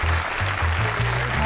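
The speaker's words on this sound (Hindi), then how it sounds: "खुद ही तालियां पीटे जा रहे" Applause plays in a satirical podcast-style skit, a short burst of dense clapping heard over a low, repeating musical bass line.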